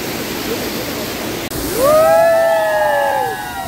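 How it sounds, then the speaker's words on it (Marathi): Sheloshi waterfall near Gaganbawda in Kolhapur rushes with a steady, dense roar, briefly dipping then swelling louder as a sliding whistle-like tone rises over it midway. "तर आज आपण या ठिकाणी आलेलो आहे एक धबधबा पाहण्यासाठी."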